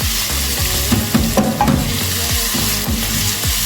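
Onions frying in a pan for homemade pizza, a steady loud sizzle with stirring scrapes and clinks throughout, no talk.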